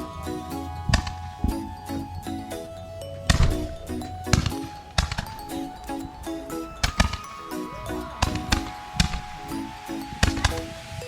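Fourth of July consumer fireworks go off in an irregular volley of sharp bangs and cracks, some spaced apart and others in quick clusters, over a faint tonal hum.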